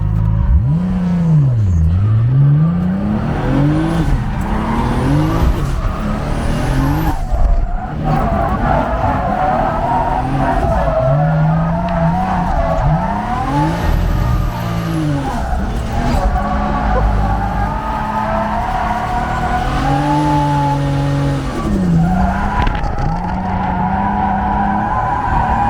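An S14 drift car with a 2JZ engine of about 600 horsepower drifts at a Pocono Raceway drift event. The engine revs loud and close without a break, rising and falling, under constant tire squeal.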